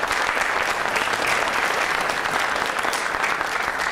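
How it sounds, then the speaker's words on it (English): Loud, sustained applause from an audience at a school students of distinction awards event, a thick wash of many hands clapping steadily from start to finish. "Please join me in giving them a round of applause"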